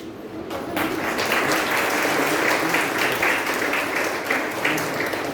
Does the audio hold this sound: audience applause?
yes